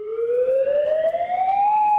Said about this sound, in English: As sirens blared